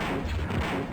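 A gun fires in the Dark Forces video game, a dense, booming burst of shots lasting about a second, loud and close with no talk over it.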